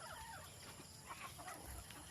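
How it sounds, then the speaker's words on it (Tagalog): Chickens cluck softly nearby outdoors, a few short scattered clucks over a quiet, faintly noisy background. "ito po yung ibang manok natin na nandito po sa labas"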